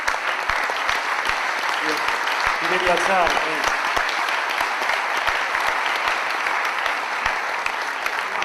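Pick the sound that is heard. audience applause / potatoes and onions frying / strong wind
audience applause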